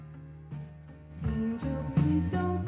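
Sample from a song, a soft recorded music passage with sustained tones and swelling chords building in loudness over a few seconds, no talking.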